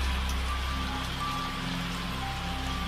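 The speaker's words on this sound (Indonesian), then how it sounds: "Payah ini, hujan gak berhenti-berhenti, Dik." Steady rain falls outdoors as a constant, even hiss of drops on surfaces, moderately loud and unbroken, with no voices.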